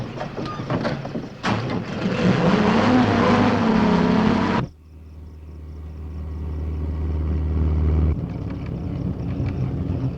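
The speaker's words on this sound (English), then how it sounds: "Hold it, that's Krieger's car." A car engine drones under a man's speech, then cuts off abruptly, followed by a low rumble from a car approaching along a country road at night, slowly growing louder over several seconds.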